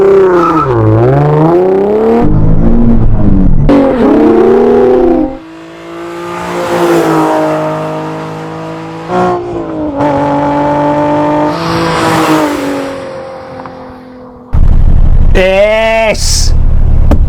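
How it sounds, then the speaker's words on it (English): A manual sports car launches for a standing quarter-mile run, its engine screaming up through the revs in loud, close rising sweeps, broken by short pauses at each gear change before climbing again. "However, I thought I'd give Bob one final chance to launch his car to see how quick it really is"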